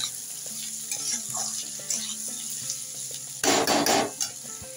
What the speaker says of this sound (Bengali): আমার আলুগুলো সব সেদ্ধ হয়ে গেছে, এবার একটু ভাজা ভাজা করবো। একটু ফ্লেমটা আমি বাড়িয়ে দিয়ে নাড়াচ্ছি।